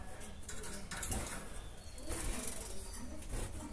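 A male pigeon coos while courting and mating with an inexperienced female, giving soft repeated throaty bursts amid close rustling and handling noise.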